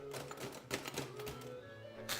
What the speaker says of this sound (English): Maybe I'll start using a typewriter more often.